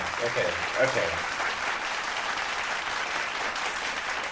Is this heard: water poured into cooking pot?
no